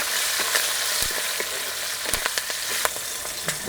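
Asafoetida, curry leaves, green chillies and turmeric crackle in hot oil, a steady dense sizzle broken by scattered sharp pops and a few spatula clinks close by, with no voices.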